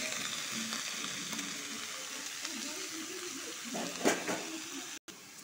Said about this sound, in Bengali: এখানে রাঁধুনি আর সর্ষের সময় দিব, চাল কুমড়াটা ঢেলে দিব।